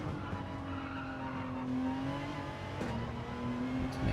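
A race car in Gran Turismo 7 brakes hard into a corner at Circuit Gilles Villeneuve, its engine note sliding downward with tire squeal and a brief gear change, steady and moderately loud with no speech.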